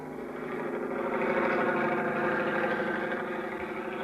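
Helicopter engine throbbing in a 1950s radio drama, a steady droning hum with layered tonal whine, sustained evenly across the clip with no voices.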